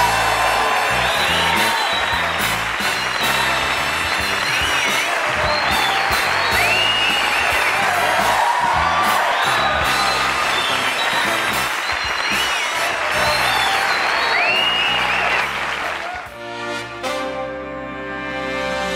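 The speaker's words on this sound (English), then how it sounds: "I'm humbled by that applause." Studio audience at a 1986 Johnny Carson talk show breaking into sustained applause with cheers and whoops, dense and steady for about fifteen seconds before fading.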